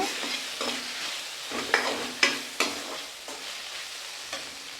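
Okra sizzles steadily in a hot pan while a spoon scrapes and stirs it, with several sharp clinks of the utensil against the pan.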